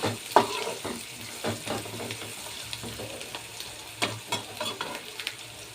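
Onions frying in a pan with a little salt, stirred with a utensil, giving a steady sizzle broken by irregular scraping knocks, with no talking.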